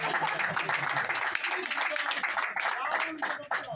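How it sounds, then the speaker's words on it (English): An audience claps during a radio conversation, a dense burst of applause that runs for a few seconds at moderate level, with some voices mixed in beneath it. "Rounds of applause."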